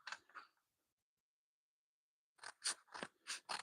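Sharp, crisp snips of scissors cutting a paper scrapbooking piece for a Halloween memory-keeping layout: a couple of cuts, a pause of silence, then a quick run of four or five close, distinct snips.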